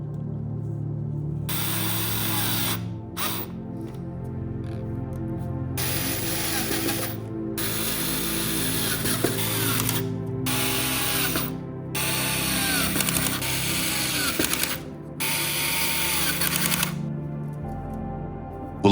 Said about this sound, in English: We screw the brackets to the wood.